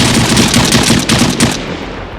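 Sustained automatic fire from an RPK machine gun in the Stalker video game, dense rapid bursts running loud and close for about two seconds before tapering off.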